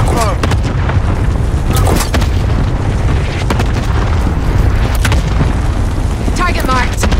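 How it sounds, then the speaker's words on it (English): Heavy booming cluster strike explosions in Call of Duty: Modern Warfare II, a dense rumbling barrage of repeated blasts that runs throughout, with a brief spoken voice and scattered game chatter mixed in. "Incoming, take cover. Cluster strike is going to fall."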